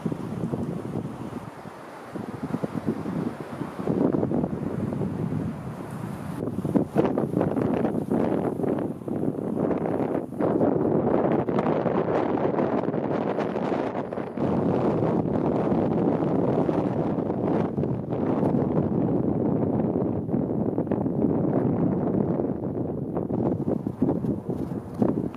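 Strong northwesterly winter wind during a cold snap buffets the microphone outdoors, a steady roaring rush with gusty swells and rumbling low buffeting that persists almost without pause throughout.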